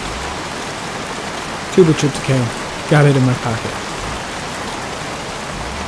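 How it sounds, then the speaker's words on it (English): Steady rain hisses in the video game Heavy Rain, a constant wash of noise beneath a man's brief muttered speech. "Goddamn rain. Soaking wet."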